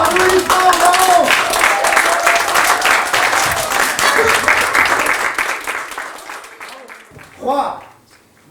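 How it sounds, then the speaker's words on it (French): A theatre audience applauds the actors' bows with sustained, dense clapping and some cheering that gradually thins and fades toward the end, where a voice briefly speaks. "Attention, les saluts. Attention, applaudissements, bravo."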